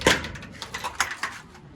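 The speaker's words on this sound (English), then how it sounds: "Let's get the door shut." A van door pushed shut in a quick series of knocks and clunks, with one louder bang at the start and softer latch clicks after, fairly close.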